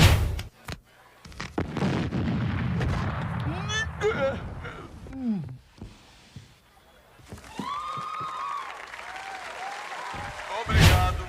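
Cartoon cannon firing cannonballs at a rock festival in The Simpsons, with booming blasts and impacts, crowd cheering and applause, and cartoon sound effects mixed with voices.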